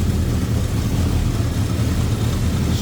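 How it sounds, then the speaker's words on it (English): A 1968 Dodge Charger hardtop engine with a Holley double-pumper four-barrel carburetor running smoothly, a loud, steady low rumble close up with no break. "Smooth running engine."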